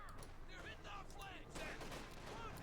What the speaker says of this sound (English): Major anti-tank gun getting hammered there by artillery